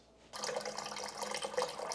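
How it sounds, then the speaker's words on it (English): Cold water from a tap pours steadily into a pot over raw chicken, a close, continuous rushing splash that starts suddenly after a brief quiet moment, with no voices. "Now I've just covered this chicken with fresh cold water"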